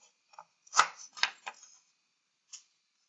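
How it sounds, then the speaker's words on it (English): A knife chops a carrot on a board in a home kitchen, making a handful of quick, close, crisp cuts in an uneven rhythm, then one last separate chop after a short pause. "So we chop up our carrot."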